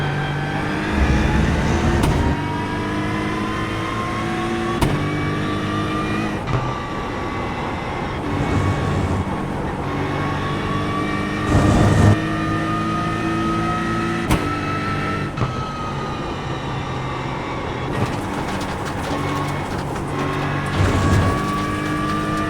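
A race car lapping a track in the racing game iRacing, its engine droning loud and steady through rising and falling gear pitches, broken by sharp shift clicks, with no talking.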